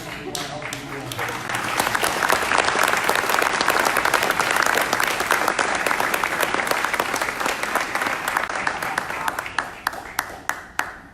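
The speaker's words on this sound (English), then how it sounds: "I'd like to give them a big round of applause." Crowd applause at a ribbon-cutting ceremony for the grand opening of an autism center: a dense, sustained round of clapping that swells quickly, holds strong for several seconds, then thins out into a few scattered last claps.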